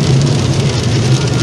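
Steady heavy rain drums on a moving car, a dense continuous hiss of drops on the body and glass over a low road rumble under dark, overcast skies on an open road.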